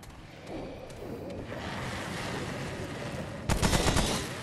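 Gunfire in Remnant: From the Ashes, a steady rattle of shots under a rumbling background, ending in a louder, sharper cluster of bursts.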